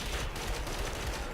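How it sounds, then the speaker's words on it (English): Sustained gunfire from the Ghost Recon Phantoms shooter, a dense, continuous clatter of shots that fills the whole moment at a fairly quiet level, with no talk over it. "We'll see some bullets get fired back his way in a minute."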